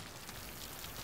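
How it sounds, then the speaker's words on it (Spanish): Steady rain in the video game Left 4 Dead 2 pours down in a continuous dense hiss with no pauses. "La lluvia no para."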